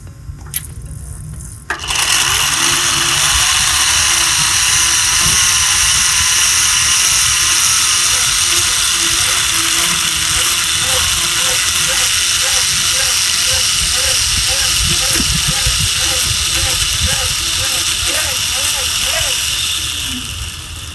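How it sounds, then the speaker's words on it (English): A small electric motor driven by a bike-powered generator spins up after a brief start and then whirs steadily at a loud, high pitch for nearly twenty seconds, with a faint ratcheting rhythm underneath. "And as you can tell, the motor has spun."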